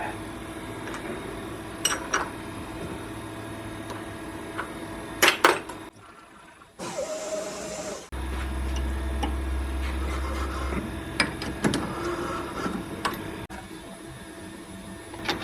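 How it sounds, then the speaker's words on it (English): A lathe or mill chamfers the front edge of a Webster engine part, giving steady machine running with scattered sharp ticks and clicks and a lower drone partway through. "chamfer this front edge"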